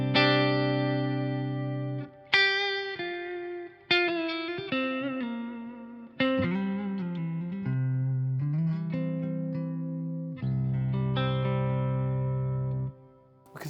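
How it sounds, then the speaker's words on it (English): Clean electric guitar chords through a Synergy SYN 20-IR ring out one after another, each one sustaining and fading with a spacious reverb tail, played alone and close. "Let's add a little bit of reverb."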